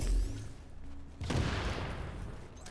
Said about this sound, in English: Oh, that was an explosion.